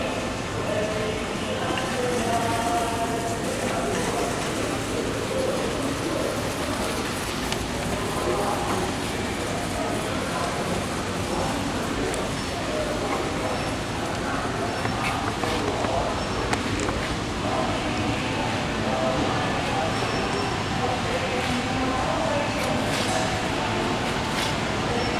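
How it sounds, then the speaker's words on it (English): A Schindler 330A hydraulic elevator runs inside a Menards store in Lawrence, KS, giving a steady, continuous mechanical rumble that lasts throughout, with people talking over it. "There goes the elevator."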